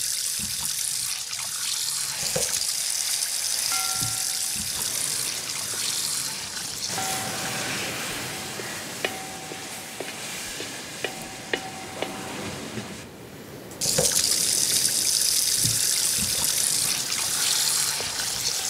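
Water poured into masala for a stingray fish curry, a steady running, trickling wash with a faint stir, fairly close, brief clinks partway through and a louder hiss of pouring near the end.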